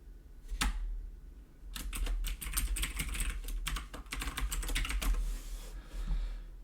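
Fingers tap quickly on a computer keyboard in uneven bursts of close, crisp key clicks, with one early isolated keystroke and short pauses between runs, over a low room hum with no talk.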